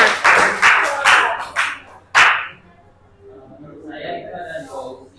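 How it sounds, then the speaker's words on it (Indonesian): Short bursts of hand clapping in an Indonesian classroom lesson, several close sharp claps in a quick run followed by one louder clap, then quieter murmuring and talk. "tepuk tangan"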